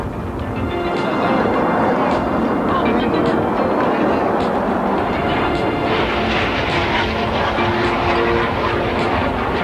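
Frecce Tricolori jets at the NAS Moffett Airshow in 1986, heard as a steady, loud broadband roar that fills the clip, with an announcer talking over it.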